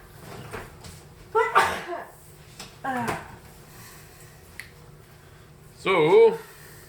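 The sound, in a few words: sneeze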